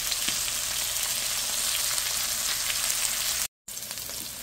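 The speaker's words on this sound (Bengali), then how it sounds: "পাতিলে তেল দিয়ে পেঁয়াজটা দিয়ে দিয়েছি। এখন একটু ব্রাউন কালার করে নেব, কষিয়ে নেব।" Sliced onion frying in hot oil in a cooking pot, a steady close hiss and crackle of sizzling that runs throughout, cut by a brief dropout near the end.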